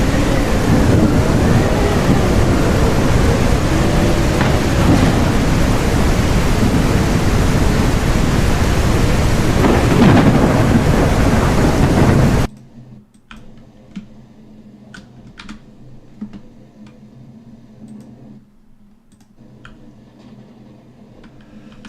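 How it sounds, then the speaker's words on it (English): A loud, dense rush of heavy rain and rumbling thunder roars steadily in the video game CastleMiner Z, then cuts off abruptly to near quiet with faint scattered ticks. "I can change this to a thunderstorm."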